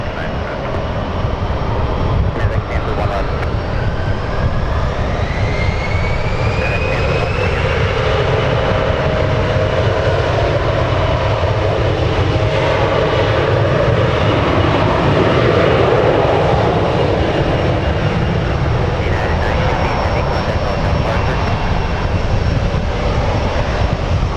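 An airliner takes off from San Francisco International Airport runway 28 right, its jet engines roaring loud and steady throughout with a rising whine, under faint radio voices.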